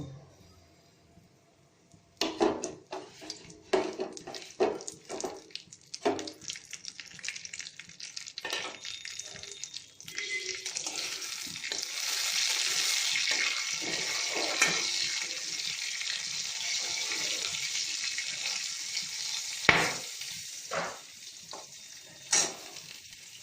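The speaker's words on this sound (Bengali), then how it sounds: "আর এই যে মাছ ভাজার তেলটা এটা গরম হোক এটার মধ্যে আমি দেব গোটা পোস্ত কাঁচা লঙ্কা কালো জিরে ফোড়ন" Whole poppy seeds, green chillies and black cumin seeds sizzle in hot oil left over from frying fish, a steady close crackling hiss with sharp pops and clatters, no talking.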